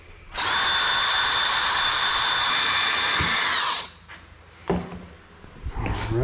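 Power drill fitted with a small bit bores into wood with one loud, close, steady whine of about three and a half seconds that winds down, followed by a few knocks and handling sounds.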